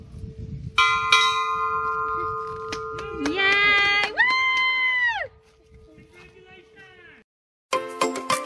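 A new open water diver rings a bell at a scuba and marina site. Bright, sustained tones ring out close by among voices, then a brief silence, then another strike.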